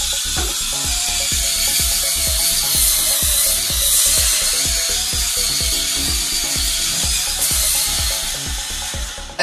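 A Lefree 8-in-1 electric cleaning brush scrubs a wet bathtub with cleaner, a loud, steady motor whir with a rhythmic churning pulse and a broad spray-like hiss, close up with no talk.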